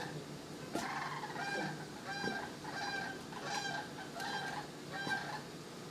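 Sandhill cranes call in a series of loud, rattling bugles, repeated bursts roughly every second over about six seconds, fairly close and with no talking.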